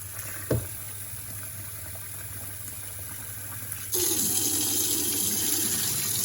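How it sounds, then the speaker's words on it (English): Cold water gushes from a kitchen sink tap for rinsing boiled rice, switching on partway through as a steady, close, hissing rush that continues to the end, with no talking. "So over to the sink, cold water."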